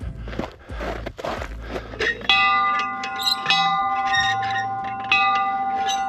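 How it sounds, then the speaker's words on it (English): An old bell on a hiking trail is struck several times, its bright metallic ringing sustaining and overlapping, after crunching footsteps on the trail at the start. "Wonder if this bell still works."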